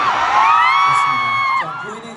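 A concert crowd at a sound check in Seoul lets out a loud, sustained high-pitched cheer that holds steady, then dips and fades near the end.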